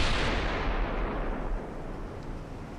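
Naval guns fire on enemy ships in the video game Ultimate Admiral: Dreadnoughts, a loud, dense rumbling roar of gunfire that fades gradually and holds up continuously without a break.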